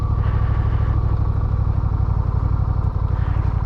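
A motorcycle engine idles close by with a steady, even chugging pulse throughout.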